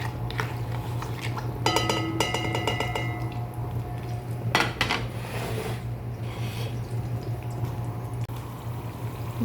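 Spices are stirred in a cooking pot, giving soft, irregular metallic scraping and clinking against a steady low hum. The sounds are faint and close, with a few louder scrapes scattered through.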